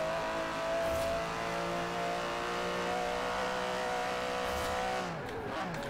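A 2017 Aston Martin DB11 in Forza Horizon 4 holds a loud, steady engine drone as the revs climb, then the pitch falls sharply at a gear change near the end.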